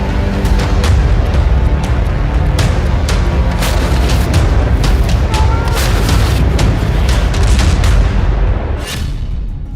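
Dense barrage of rocket explosions in a war zone, loud booms and blasts firing in rapid overlapping succession throughout, continuous and close, easing slightly near the end.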